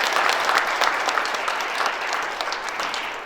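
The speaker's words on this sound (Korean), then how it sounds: "다시 한번 뜨거운 박수 한번 보내주시기 바랍니다" Dense, sustained applause from a lecture audience at a morning lecture event, many hands clapping steadily and fairly loud throughout with no speech over it.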